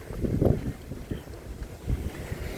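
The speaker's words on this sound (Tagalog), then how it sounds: "Malakas yung tubig o." Strong water rushes and churns against a boat, with heavy gusts of wind buffeting the microphone and a few louder surges.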